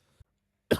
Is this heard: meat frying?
no